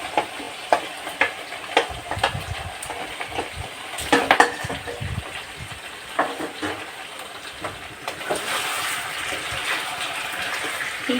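Eight hundred grams of chicken sizzles steadily in a hot pan while a spatula scrapes and stirs it in bursts, with metallic clinks and stronger frying spells throughout; no one speaks.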